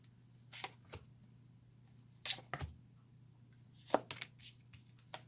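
Quiet, close rustles and brief riffling snaps of tarot cards being shuffled, a few separate bursts over a low steady hum.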